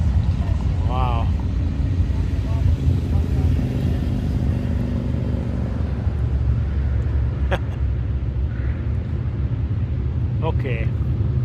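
Motorcycles riding past on a road through Spearfish Canyon during the Sturgis rally, a steady loud engine rumble that swells and fades as bikes go by, with a few sharp clicks and brief voices.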